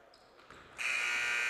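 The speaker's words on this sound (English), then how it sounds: "And the buzzer will sound," A long electronic buzzer at the end of a girls' high school basketball game blares loud and steady after a short stretch of faint gym ambience, holding to the end.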